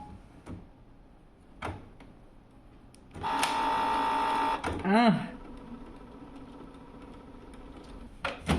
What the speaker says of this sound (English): and then do a nozzle check. Wait for the printer to do its thing and see if it works.